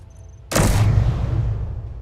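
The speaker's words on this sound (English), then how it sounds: "Assault cannon." Assault cannons fire in the Space Engineers video game, several shots going off at once as one loud booming blast that rolls out into a long, slowly fading rumble.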